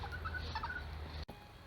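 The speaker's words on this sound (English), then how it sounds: "a chicken coop, where all these chickens are living quite happily" Chickens in a coop set against a chateau garden wall cluck and gobble faintly at a distance over a steady low background rumble, briefly cut by a handling noise.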